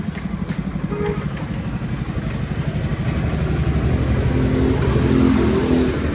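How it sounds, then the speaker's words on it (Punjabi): A heavy 50 hp, four-speed tractor diesel engine chugs at idle with a low, rapid throb, growing slightly louder and rougher partway through. "ਇਹ 4 ਸਪੀਡ ਟਰੈਕਟਰ ਹੈ"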